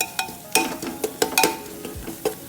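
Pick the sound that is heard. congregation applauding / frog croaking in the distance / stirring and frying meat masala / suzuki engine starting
stirring and frying meat masala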